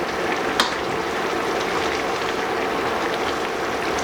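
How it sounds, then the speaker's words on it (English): Pineapple chicken adobo simmering uncovered in a pan, a steady broadband bubbling and sizzling hiss throughout with one brief scrape or clink as it is stirred. "It's been 5 minutes since I've let this simmer and without a cover."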